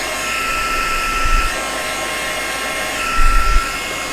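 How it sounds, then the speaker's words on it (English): Embossing heat tool blowing loudly and steadily, a continuous close-up whoosh of hot air with two brief surges of low rumble as it is moved, used while making a Stampin' Up! shimmer card. "Now I'm going to grab my heat tool. Please apologise for the sound."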